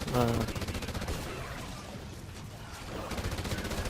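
Rapid burst gunfire rattles through a Call of Duty Advanced Warfare match, a dense, loud stream of shots filling the few seconds, with a voice briefly heard at the start.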